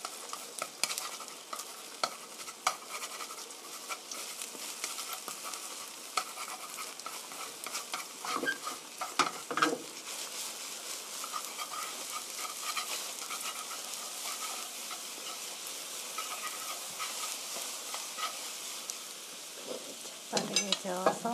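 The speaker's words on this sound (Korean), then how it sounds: "풀어놓은 달걀 넣어주세요. 빠르게 저어주세요." Beaten eggs stirred quickly with tomatoes in a hot frying pan, a steady sizzle under brisk scraping strokes that runs continuously, with a few louder clatters of the utensil against the pan.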